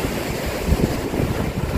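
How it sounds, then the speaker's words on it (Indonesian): Large ocean waves wash and roar continuously along a rocky island shore, with wind noise buffeting the microphone. "Wow, ombaknya gede."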